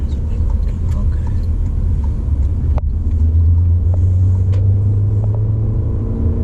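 A 2019 Toyota C-HR's engine roars and rumbles steadily under hard acceleration at full throttle, heard from inside the cabin as a loud, continuous drone that rises in pitch toward the end.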